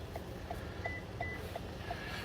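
Short electronic chirps from a 2018 Toyota Highlander during push-start smart key programming: a regular series of faint, evenly spaced beeps with a couple of longer tones, over a low engine-like hum.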